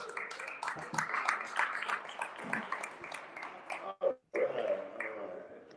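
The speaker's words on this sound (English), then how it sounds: "Round of applause." Audience applause at an R-rated comedy game show, a scattered, fairly faint round of clapping and cheers that breaks off briefly before resuming.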